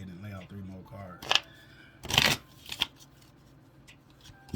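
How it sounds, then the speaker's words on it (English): Tarot cards being shuffled and then laid out one after another in a short sequence of crisp snaps and slaps on a surface, close and clear, while a person talks. "I'm gonna go ahead and lay out three more cards."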